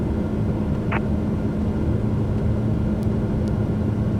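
A Pilatus PC-12 takes off in Microsoft Flight Simulator 2024, its engine giving a steady, loud drone with a low rumble throughout and a couple of faint clicks.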